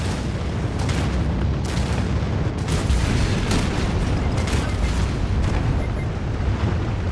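Missile explosions in the video game Anno 2205, a dense run of booming blasts and rumbling bursts, loud and continuous with sharp repeated hits throughout.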